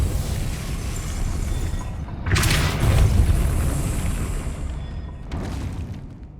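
A Depulso force spell cast in the Hogwarts Legacy video game lands as a loud booming burst with a rumbling tail, followed about three seconds later by a second, lighter whoosh-like burst.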